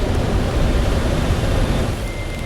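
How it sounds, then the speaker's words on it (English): Engines roar in Deus Ex: Mankind Divided, a dense, steady wall of loud broadband rumble that holds unbroken for a couple of seconds with no voices over it. "I'm getting burnt alive by the engines."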